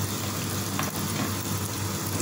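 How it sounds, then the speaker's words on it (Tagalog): Onions sauté in a pan for corned beef with egg, a steady, even sizzle close by, continuous and unbroken with no voices. "So igisa natin yung sibuyas."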